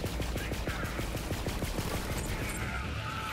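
Rapid SMG gunfire from the Borderlands 3 video game, a fast steady burst of shots for about two seconds that then trails off, with game ambience behind it.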